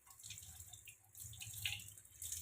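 Running water rinses hair-dye paste off a hand, making a quiet, steady splash and trickle with small drips, close by and with nothing else over it.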